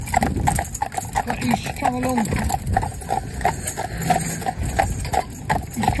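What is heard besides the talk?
horse hooves clip-clopping on a road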